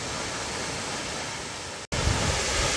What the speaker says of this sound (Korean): 물줄기가 굉장히 시원하게 내리고 있습니다.